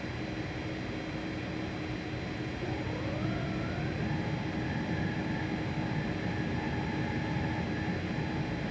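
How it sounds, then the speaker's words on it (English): A steady hum of aircraft machinery in a flight simulator A300 with a rising, whining mechanical tone as wing flaps extend, then holding at a steady pitch; no talking. "Love the flap sound there."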